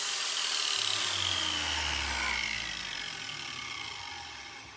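Angle grinder working on a metal reinforcement skid weight plate for an RC car: a loud, steady, hissing grind runs throughout, with a low humming tone entering after the first second and slowly easing off.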